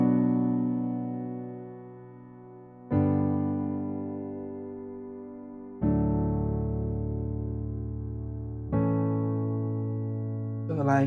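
Four sustained piano chords from the bridge of a song are struck one after another, each left to ring and slowly fade before the next, played slowly without accompaniment.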